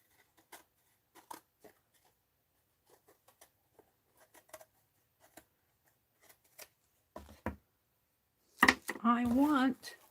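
Scissors make small, sparse snips as paper is trimmed for an art journal, quiet and close, with a voice speaking briefly near the end.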